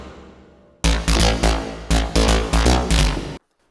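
A gritty synth lead with overdrive, EQ and a clipper plays a short series of punchy, clipped notes in a rising rhythm, loud and up front, then stops abruptly.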